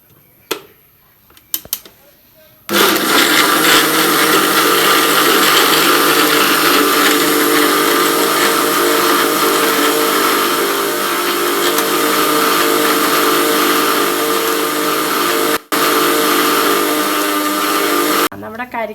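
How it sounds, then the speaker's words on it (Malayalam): A mixer grinder blends a tender coconut milkshake. It roars loud and steady for about sixteen seconds with one brief break, preceded by a few light clicks and handling sounds. "ഇത് നന്നായിട്ട് അടച്ച് മിക്സിയിൽ അടിച്ചെടുക്കണം."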